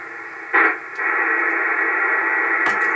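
Steady hiss of interference on an 80-meter band radio receiver, loud and continuous, with two brief bursts of sharper static crackle breaking through the noise.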